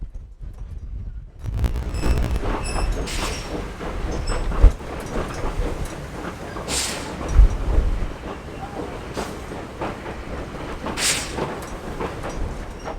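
Inside a moving heritage railway carriage on the Glen Afton Line: a continuous rumbling roll with rhythmic clickety-clack of wheels over rail joints and occasional louder knocks and squeals.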